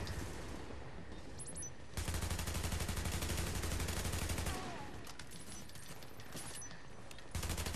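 An automated gun turret in the video game The Division fires sustained rapid bursts of gunfire in two loud stretches, with quieter background game noise and distant shots between them, and no talking.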